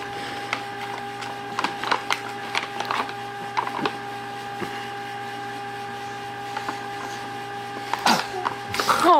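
A single short sneeze lands near the end, from someone excitedly playing with a paper bag, heard over a steady low hum and scattered soft rustles.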